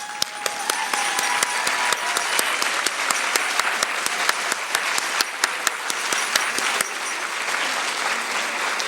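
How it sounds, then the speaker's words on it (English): A roomful of people at an employee service awards ceremony applauds honored staff, a sustained, even round of clapping with sharp individual claps standing out, fading slightly toward the close. "please stand for a well round of applause"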